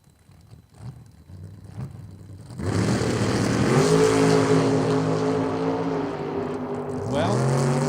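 Drag race cars launching side by side off the starting line, a Corvette open-air roadster among them: quiet staging, then a sudden loud, sustained engine roar climbing through the gears, with a commentator talking over it.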